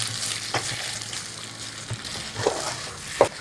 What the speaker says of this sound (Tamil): ஸ்டவ்வை கம்மி பண்ணிவிட்டு பொறுமையாக கலக்கணும்.